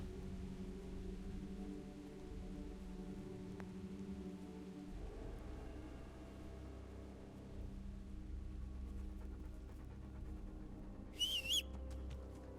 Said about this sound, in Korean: 아 이거 휘파람 소리잖아.